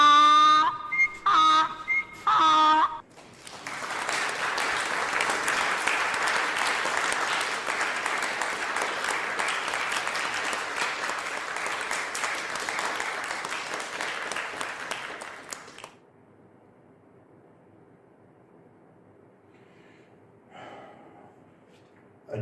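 Audience at a comedy festival cheering poet Mansour Al-Mutfi, with a few loud whistles followed by a long, dense burst of applause that runs for about twelve seconds before stopping abruptly, leaving near silence.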